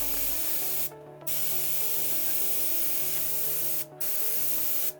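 An airbrush sprays in long steady hissing bursts, briefly cutting off twice, with a faint mechanical hum beneath.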